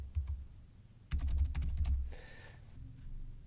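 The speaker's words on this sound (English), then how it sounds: "Now I'll just start typing here." Keys clatter on a computer keyboard while typing a search into the Google Play Store, a few taps then a quick burst of close, crisp keystrokes, followed by quieter pauses.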